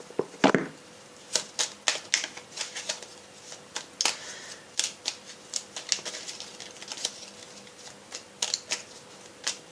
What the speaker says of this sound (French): je vais commencer en prenant une carte du petit oracle de Kuan Yin